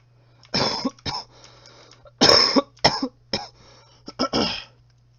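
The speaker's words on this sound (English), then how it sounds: "Again, sorry for the cough." A man coughs and clears his throat several times in separate harsh bursts, close to the microphone, with short pauses between them and a faint steady hum underneath.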